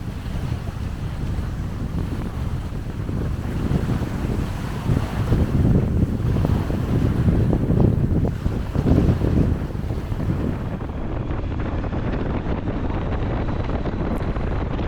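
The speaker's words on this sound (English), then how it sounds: "And getting very, very windy" Strong gale-force wind buffets the microphone at the seaside on the Shetland Islands, a loud continuous roar with gusting rumble and surf-like wash, easing slightly toward the end; no one speaks.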